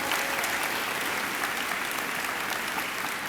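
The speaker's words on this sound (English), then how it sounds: "Please give them a round of applause." A school audience applauds at an eighth-grade middle school recognition ceremony, with dense, steady clapping from many hands filling the room evenly from start to finish.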